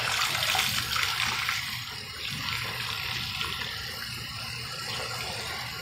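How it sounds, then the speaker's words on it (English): Play sponges rinsed clean under running water, a steady continuous rush and splash of tap water close by, with no talking. "Getting the sponges clean."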